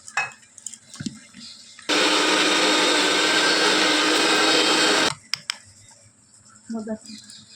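A mixer grinder whirs loudly for about three seconds, blending melon seeds, cashews, ginger, green chilli, whole garam masala and cumin with a little water into paste. Quiet knocks and handling of the jar come before and after.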